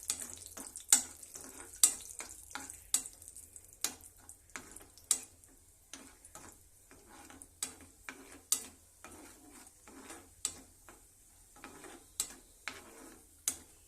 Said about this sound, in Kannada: ನೋಡ್ರಿ ಫ್ರೈ ಆಯಿತು.